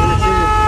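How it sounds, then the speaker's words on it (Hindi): Heavy road traffic near Chittagong, Bangladesh, slowed by an accident, fills the air with a loud, dense rumble of engines and a sustained horn tone, heard from close by. "बहुत ज्यादा ट्रैफिक है"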